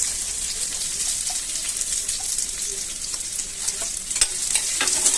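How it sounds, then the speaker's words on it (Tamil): Onions sizzle and crackle in hot oil in a pan, a steady close frying hiss with occasional sharper pops and stirring scrapes. "எண்ணெய் காஞ்சிருச்சு அதில் வெங்காயத்தை சேர்த்துக்கலாம்"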